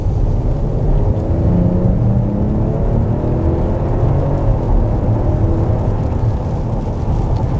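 Revving engine of a car with the Hurricane engine, driving, a steady loud low rumble that builds through the rev range, close and continuous with no talking.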